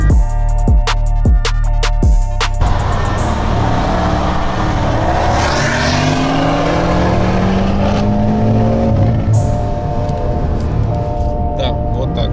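BMW 340 Stage 3 with a B58 engine racing, loud engine drone rising in pitch after a burst of sharp rhythmic pops at the start, continuous and close.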